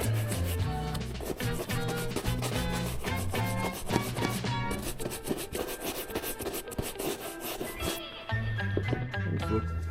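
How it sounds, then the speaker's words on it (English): A polishing brush rubbing over a leather item, heard up close as a loud, continuous run of fast, brisk brushing strokes. "Alright, I'll just hit it with the polishing brush."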